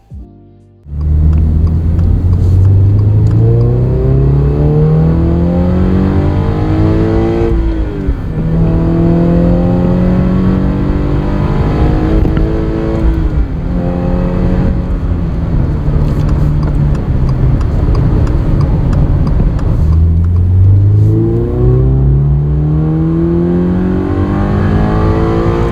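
Subaru BRZ or Toyota GR86 (2022 or later) fitted with an HKS Super Air Filter, its engine revving loudly and continuously, climbing and falling through several sweeps up and down the range, with no one talking.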